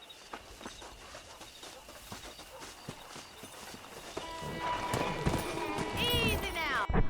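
Horse hooves clip-clop in a steady, uneven run of soft thuds during a ranch horse-wrangling scene in the Red Dead Redemption video game, growing louder and busier toward the end, with a brief whistle-like tone near the close.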